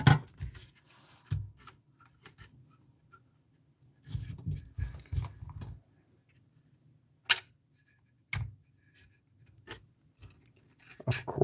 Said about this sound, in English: Just need to trim our pieces here.